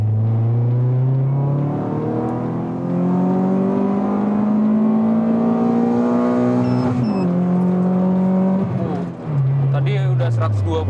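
A modified Toyota Yaris engine pulls hard from second gear, its note rising loudly, then dropping sharply at a gear change before climbing again, heard from inside the car.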